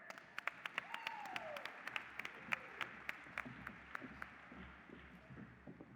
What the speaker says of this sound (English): You guys can applaud louder than that